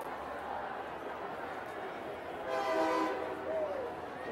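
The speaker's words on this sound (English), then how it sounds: "you can hear the train whistle, and it's going behind us at the Spanos press box." A train whistle sounding behind the stadium press box during a Cal Poly vs UCLA men's soccer match, a fairly faint, distant tonal blast rising midway over steady crowd and broadcast ambience.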